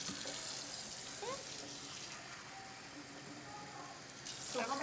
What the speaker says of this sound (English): Let's go ahead and get the water in there.